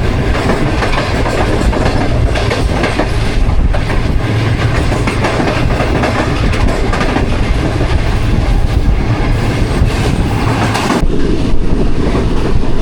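The 33 Up Pak Business Express passenger train running from Karachi to Lahore, a loud, continuous rumble of wheels on rails with rhythmic clickety-clack, heard from on board with no talking.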